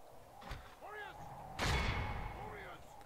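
Siege artillery in Medieval 2: Total War fires on a city gate, with a first muffled launch followed by a louder, deep booming blast that rumbles and decays, and faint whistling tones in between.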